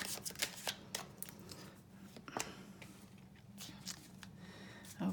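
Tarot cards being shuffled and drawn, with soft riffling, flicking and tapping card sounds in irregular bursts, fairly quiet and close.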